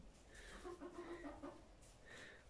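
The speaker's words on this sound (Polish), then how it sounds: "Pan kogut." A rooster and hens clucking in a rural farmyard, a short run of quick, throaty clucks around the middle followed by a fainter call near the end, heard quietly and fairly close.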